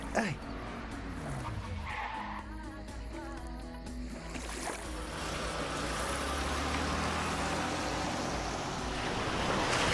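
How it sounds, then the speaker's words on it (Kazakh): Water splashes and surges in an animated cartoon, a broad rushing wash that builds and stays loud over several seconds, with skidding, whooshing effects and voices mixed in. "Суды осылай шашу керек"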